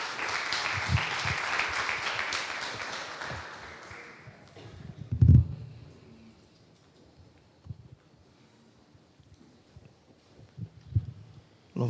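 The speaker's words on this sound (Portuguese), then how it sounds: "Salva de palmas em nome de Jesus." Congregation clapping in a church setting, a burst of applause for the first four seconds fading out, followed by quieter room noise with a few soft knocks.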